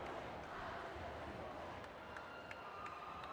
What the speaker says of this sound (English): Montgomery crowd doing their thing.